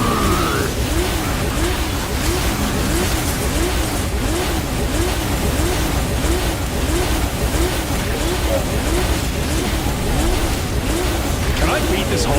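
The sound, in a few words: demon car burnouts in video game Devil May Cry 5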